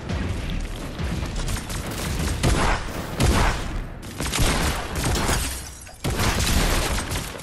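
Gunfire in the video game Fortnite: loud, dense volleys of rapid shots and sharp cracks in repeated bursts, with short lulls between them.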